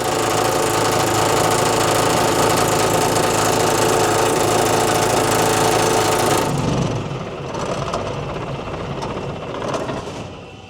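A Mercedes-Benz 911 4WD truck's loud diesel engine rumbles steadily, then drops abruptly to a quieter, lower idle with a rough, knocking chug.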